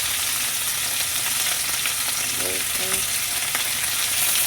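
Lamb chops sizzle loudly and steadily in a hot pan as they are flipped, giving a dense, continuous frying hiss with a few brief scrapes.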